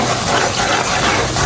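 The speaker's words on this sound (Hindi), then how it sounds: "थोड़ा सा पानी शामिल करेंगे" Water poured into spices frying in a pan for moong dal, a loud, close burst of gushing, hissing liquid filling the whole moment without any voices.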